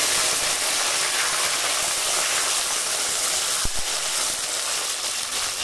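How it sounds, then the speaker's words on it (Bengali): Chopped cucumber sizzles and fries in very hot white oil, a steady dense hiss running throughout with one brief sharp clatter near the middle. "তেল খুব ভালো করে গরম করে নিয়েছি, এবার দিয়ে দেবো কেটে রাখা শসা"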